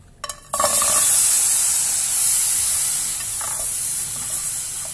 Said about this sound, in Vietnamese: Cái này do lúc nãy mình rửa đó, nó còn tí nước cho nên thành ra là nó cốt hơi lên rồi nó sôi.